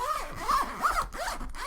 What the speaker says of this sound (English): Go ahead and zip that back up.